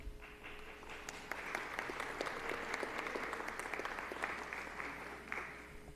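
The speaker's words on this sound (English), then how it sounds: "I like that applause" An audience at a school district meeting gives steady, sustained applause as the school principal is called up to the microphone, the clapping even and somewhat distant throughout.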